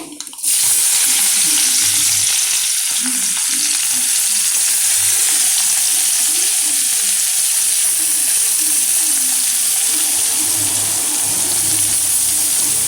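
Mustard seeds splutter in hot oil for idli upma, making a loud, steady sizzle close up with a constant hiss and scattered small pops running unbroken from start to end.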